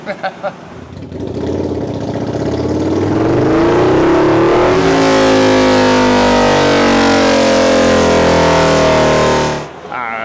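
A Harley V-Rod motorcycle fitted with performance parts roars on a dyno, its engine climbing from idle to a sustained loud high-rpm wail before cutting off, heard close up with voices in the background.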